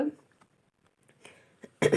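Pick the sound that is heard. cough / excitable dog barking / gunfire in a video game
cough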